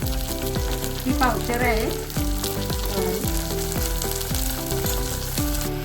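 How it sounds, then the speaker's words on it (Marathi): Guar beans sizzle and fry steadily in hot oil, with a continuous close crackle as a utensil stirs them in a regular rhythm, and a brief spoken remark over the cooking. "तेलात चांगली परतून घ्यायची"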